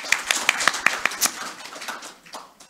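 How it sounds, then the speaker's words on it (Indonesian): An audience claps for Kiai Fuad at a religious talk, a short burst of distinct sharp claps in quick rhythm that thins into scattered softer clapping. "saya salut lagi sekali tepuk tangan untuk Kiai Fuad"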